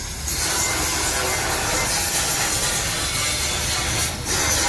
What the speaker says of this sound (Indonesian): Agak sedikit berisik ya, mohon maaf teman-teman, karena di samping ini tukang las.